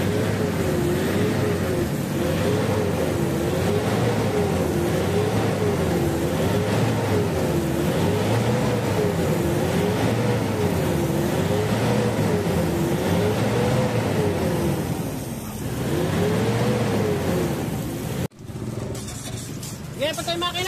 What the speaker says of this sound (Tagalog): bunutin ko na itong hose tapos pa-start ko na itong makina